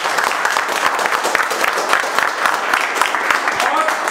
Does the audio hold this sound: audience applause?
yes